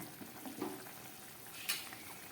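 Fish curry broth bubbling on the stove, a soft continuous simmering hiss with a few brief clinks and stirring sounds, faint and steady throughout.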